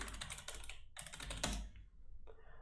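Keys clatter on a computer keyboard as a password is entered, close bursts of quick tapping with a brief pause and a few final keystrokes.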